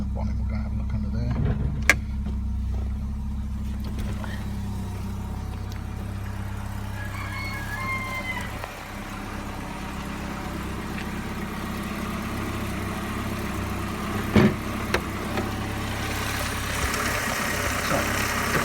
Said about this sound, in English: So it starts very well indeed. Settles quite well to an idle.